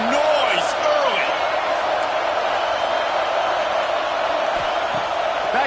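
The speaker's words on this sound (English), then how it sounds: "This crowd bringing the energy and noise early." Stadium crowd from an NCAA football video game, a dense steady roar with rising cheers, loud and continuous, with voices talking over it throughout.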